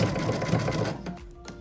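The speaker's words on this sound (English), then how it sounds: "You can even just do a few stitches just to keep it from slipping." A sewing machine runs steadily, stitching a fabric tissue box cover with a dense, continuous mechanical whir, then slows and stops near the end with a few faint clicks.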